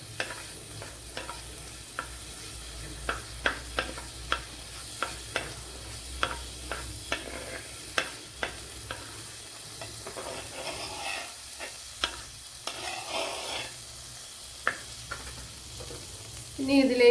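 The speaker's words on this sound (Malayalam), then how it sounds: "ഇവിടെ 1 ടേബിൾ സ്പൂൺ വെളിച്ചെണ്ണ ചേർത്ത് കൊടുത്തിട്ടുണ്ട്. അതിലേക്ക് ഒരു 1/4 ടീസ്പൂൺ ഉലുവ കൂടെ ചേർത്ത് കൊടുക്കാം. ഇതിലേക്ക് 2 വറ്റൽമുളക് കൂടി ചേർത്ത് കൊടുത്തിട്ടുണ്ട്." Fenugreek seeds and two dried red chillies sizzle in a tablespoon of coconut oil for a Kerala fish curry, a soft steady frying hiss broken by frequent sharp crackles and spoon taps, close and moderately quiet with no talk.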